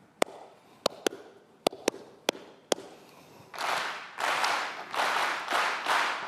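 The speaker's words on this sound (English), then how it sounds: "I want you to clap it back." Clapped rhythm pattern: a single person's sharp claps in a spaced sequence, then a large audience applauding back in several dense loud bursts, at a music-education talk in Sydney.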